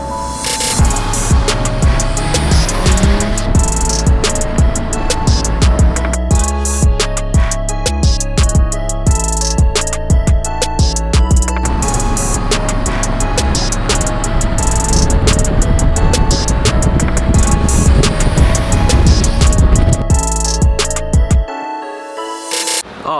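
Inside a Mitsubishi Evo on the move, loud, dense engine and turbo roar fills the cabin with continuous rumbling and hissing, then drops away sharply near the end.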